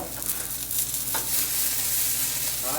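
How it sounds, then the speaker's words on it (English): Steak sears in a hot pan, giving a steady, close, full-bodied sizzle with soft crackling that continues without pause and with no talking. "we're getting a really good sear all the way around there"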